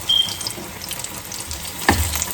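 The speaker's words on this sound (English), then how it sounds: "let them fry from the other side as well" Stuffed pepper pakora fry in hot oil with a soft, steady sizzle, broken by one brief clink near the end.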